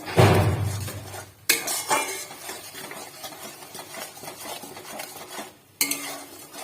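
A spoon stirs ingredients for coriander chutney in a metal pan with scraping, clinking strokes, a couple of sharper knocks against the pan and a faint sizzle underneath.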